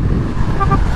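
A car horn toots briefly over steady road and engine noise from a moving vehicle on a Philippine expressway, fairly loud and close; the horn is intermittent from a battery fault.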